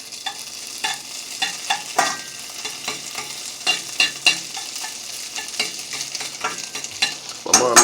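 Minced garlic, about a knife tip's worth, being stirred in a frying pan while cooking scrapple: a run of sharp scraping and clinking stir strokes over a soft steady sizzle, with no talking.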